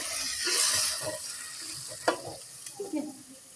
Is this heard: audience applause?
no